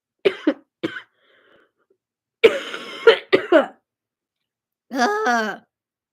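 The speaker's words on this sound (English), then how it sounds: "I'm still coughing, but I'm not sick anymore." Several short, harsh coughs and throat-clearing bursts come in separate clusters with quiet pauses between them, ending with a longer groan-like exhale.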